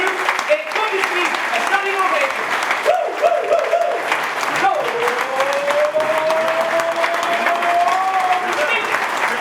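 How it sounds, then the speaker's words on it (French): Sustained applause from a crowd honoring Roger Bambuck and Tommie Smith at an athletics event in Guadeloupe, dense steady clapping that fills the whole stretch while a voice speaks over it. "L'applaudissement pour les deux, Roger Bambuc et Toby Smith."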